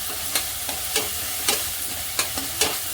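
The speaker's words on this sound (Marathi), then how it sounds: "आता कांदा छान परतून घेऊया" Onion pieces sautéing in a hot pan on a fairly high flame, a steady sizzle broken by six sharp scraping stir strokes at uneven intervals, close and moderately loud with no talking.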